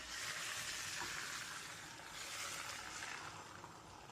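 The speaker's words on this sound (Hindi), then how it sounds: "तेल गरम हो चुका है, इसमें ऑमलेट डाल देते हैं।" Egg omelette mixture frying in hot oil in a pan, giving a steady, loud, close sizzle and crackle that holds for the whole stretch with no voices.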